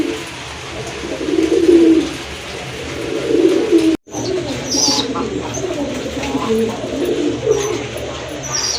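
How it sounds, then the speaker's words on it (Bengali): A pair of red Rajgolla pigeons coo repeatedly in low, throaty phrases, close and fairly loud, with a brief gap midway and faint chirps and background noise throughout. "মাশাল্লাহ এক জোড়া রাজগোল্লা কবুতর, টকটকা লাল দেখার মতো কিন্তু।"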